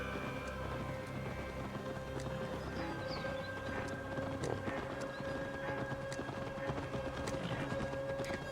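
Hoofbeats of a ridden mount in a Viking-era video game, a continuous rapid clip-clop of galloping steps over a steady outdoor ambience, with a faint whinny-like call and game sound, no talk.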